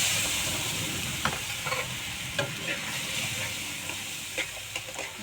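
Fish and bori frying with chili and turmeric in a pan, making a constant sizzle broken by several sharp spatula scrapes and clacks at irregular intervals.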